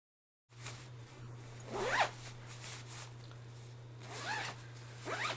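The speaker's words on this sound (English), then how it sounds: "You just zip it up," An Eagle Creek compression bag is zipped up in several quick rasping zipper pulls, close and fairly quiet over a steady low hum.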